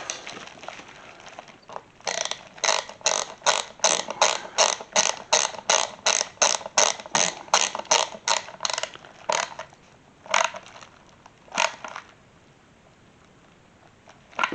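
Screw being tightened into a rebuilt Chevrolet C10 squarebody vent window, a quick run of rhythmic ratcheting clicks, close and crisp, that slows into a few separate clicks before stopping.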